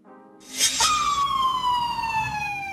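An ambulance motorcycle siren sounds close and loud, a rising electronic wail that settles into a steady high tone held to the end, with no voices.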